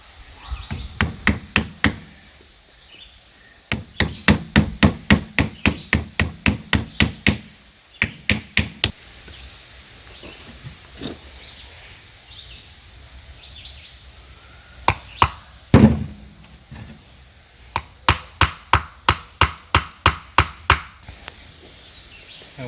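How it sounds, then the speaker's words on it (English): Wooden wedge hammered into the head end of a replacement axe handle: bursts of sharp, evenly spaced knocking blows in quick runs, separated by short pauses, close and loud. "You want to hammer it in first, just a little bit."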